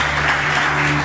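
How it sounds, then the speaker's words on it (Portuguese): A brief burst of congregation applause in a church, steady and close, with a low sustained musical hum underneath. "Se eu fosse você, eu dava um aplauso a Jesus"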